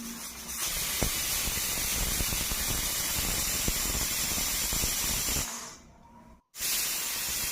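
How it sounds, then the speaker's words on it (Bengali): A pressure cooker holding vegetable dalia khichdi lets off a loud, sustained hissing whistle of escaping steam that fades, cuts out briefly, then resumes. "দিয়ে ঢাকনাটা বন্ধ করে 3টে সিটি আমি মেরে নেব।"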